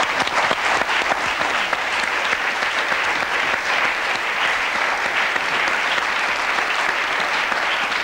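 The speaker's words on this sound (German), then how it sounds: "Wir nehmen den Applaus, der jetzt gleich kommt, als Unterstützungsapplaus für Anke Engelke" A TV studio audience claps loudly and continuously, a dense, even roar of applause sustained throughout with no pause.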